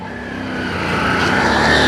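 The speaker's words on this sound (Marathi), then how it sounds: "हे पळय रिक्षा कितलो चडटा पळय" Auto rickshaw engine revving and straining as it climbs up onto a roadside at a parking spot in Mapusa, Goa, a loud steady drone that builds in strength.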